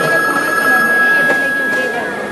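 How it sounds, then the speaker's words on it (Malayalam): A telephone rings with a steady electronic tone over a noisy room background, continuing throughout. "എടി ഫോൺ എടുക്കാൻ കാണിക്കുന്നുണ്ട്"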